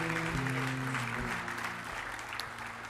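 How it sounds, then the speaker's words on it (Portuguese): A church congregation claps together during a worship service, a moderate burst of applause that thins slightly toward the end, with a faint voice or music tone underneath. "Uma salva de palmas para aquele que nos encontrou"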